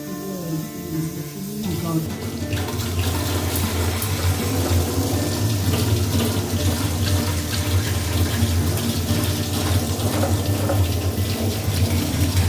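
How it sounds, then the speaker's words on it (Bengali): Cut potatoes rinse under a running tap, a loud continuous gush of water splashing into a vessel for the whole stretch, with faint clinks as they are washed. "এখন কেটে রাখা আলুগুলো ভালো করে ধুয়ে নিয়ে একটা পাত্রের মধ্যে রাখা হচ্ছে"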